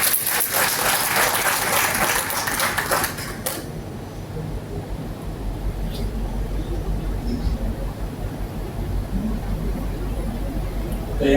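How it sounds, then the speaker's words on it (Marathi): A meeting audience applauds loudly, a dense burst of clapping for about three seconds that then thins into scattered claps and room noise, with some talking underneath. "जोरदार टाळी वाजवू."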